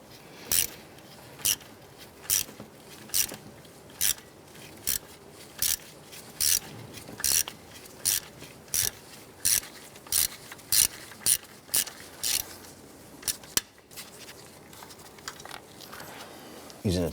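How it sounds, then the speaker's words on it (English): A ratchet with a Torx bit works an upper bracket loose on the fuel injector area of a 1994-2004 Chevy S10. Brisk bursts of close ratchet clicking repeat in a steady rhythm over a quiet shop background. "I'll go ahead and remove this upper bracket here."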